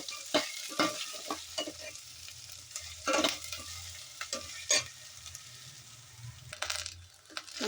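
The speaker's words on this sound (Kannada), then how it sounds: "ಈಗ ಈರುಳ್ಳಿ ಸ್ವಲ್ಪ ಸಾಫ್ಟ್ ಆದಮೇಲೆ ಬೆಂಡೆಕಾಯಿ ತಗೊಳ್ಳೋಣ. ಚೆನ್ನಾಗಿ ಒಂದು ಸರ್ತಿ ಸಾಫ್ಟ್ ಆಗೋವರೆಗೂ ಅದನ್ನು ಹುರ್ಕೋಬೇಕು." Okra and onion sautéing in a pan for a tamarind-based bendekai gojju, a steady low sizzle broken by repeated sharp scrapes and clinks of a spatula stirring, close and fairly loud, with no talking.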